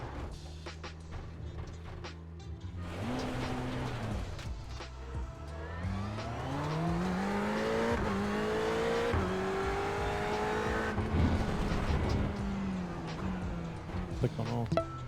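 Racing car engine in a sim racing video game, rising and falling revs through gear changes with a steady drone, close and continuous, under occasional talk.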